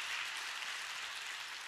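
Applause from a congregation during a church service, a steady wash of many hands clapping at moderate, fairly distant volume with no talk over it.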